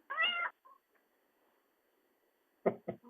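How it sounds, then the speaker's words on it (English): A domestic cat meows clearly and close, one drawn-out meow followed after a quiet pause by a few shorter chirping meows. "Someone has a kitty cat."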